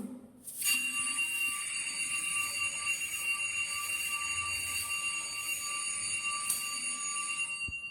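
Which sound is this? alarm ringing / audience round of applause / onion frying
alarm ringing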